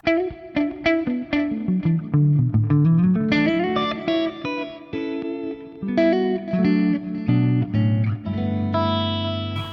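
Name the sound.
electric guitar through Fender Twin amp model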